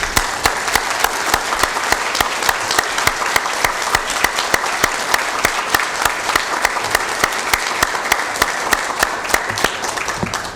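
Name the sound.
audience applause for master gardeners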